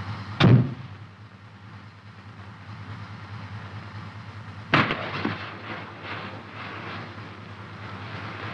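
A grenade round from an M551 Sheridan armored reconnaissance/airborne assault vehicle goes off in two heavy booms, one near the start and one midway, each trailing into a long rumbling decay over steady outdoor noise.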